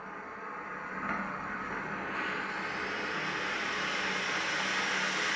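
A Kohler K9 Model 1659 steam generator sends out a broad, steady hiss of rushing steam, growing slightly louder and holding without a break throughout.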